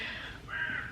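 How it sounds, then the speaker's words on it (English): A large crow cawing just outside a window, two harsh back-to-back caws heard clearly and alone. "There's a massive crow outside."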